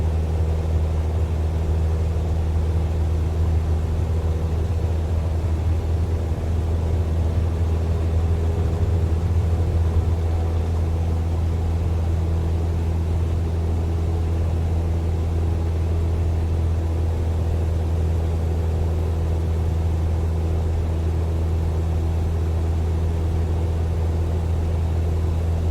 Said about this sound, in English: apply full power against full brakes, release the brakes, and let the aircraft accelerate